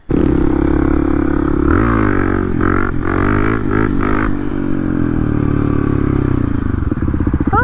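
A Kawasaki KLX300 dirt bike rides off-road, its single-cylinder engine loud and close, revving up and down through gear changes with rattling clatter, then settling into a steady drone.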